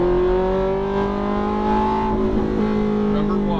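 A Ferrari F430 engine revs hard under acceleration, a loud, continuous close-up engine note whose pitch climbs and shifts as it pulls through the rev range.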